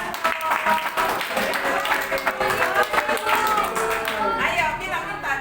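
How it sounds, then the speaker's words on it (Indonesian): An indoor audience breaks into lively applause, many hands clapping in a dense, uneven patter for over five seconds, loud and close, with voices calling out over it. "kita semua tepuk tangan buat Gianto"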